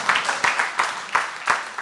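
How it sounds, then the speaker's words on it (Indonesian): Audience applause at an Indonesian church education event, heard as bursts of hand clapping from a modest crowd, close and fairly loud, with rhythmic surges through the short stretch. "Tepuk tangan untuk Bu Kristi"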